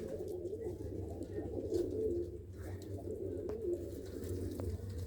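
Domestic pigeons in a loft, birds settled on their eggs, coo softly and continuously in low rolling murmurs, a steady close chorus with no talk.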